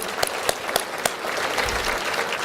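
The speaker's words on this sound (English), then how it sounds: "And let's first give a big round of applause for Jojo Dodge." An audience at a civic speaking event in Coeur d'Alene, Idaho, gives a brief round of applause, with a few sharp claps standing out at the start before the clapping settles into an even patter.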